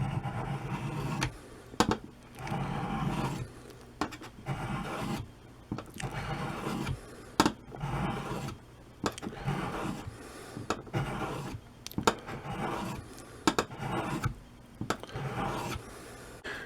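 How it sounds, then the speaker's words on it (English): The bevel of a wood chisel blade slides across a sharpening stone in repeated gritty rubbing strokes, close and moderately loud, separated by short pauses and small knocks. "I'm going to slide across, so I'm going across the whole width of the chisel blade."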